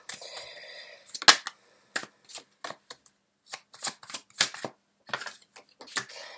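Tarot cards are shuffled and handled in a quiet room, giving a series of sharp, crisp snaps and flicks with brief silent gaps between them.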